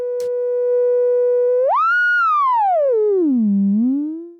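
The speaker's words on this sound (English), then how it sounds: "Let's check out the sine wave from oscillator A." Oscillator A of an Instruo Cš-L synth module puts out a slightly buzzy sine tone, loud and alone, holding steady, then sweeping up, gliding down low and rising again before fading.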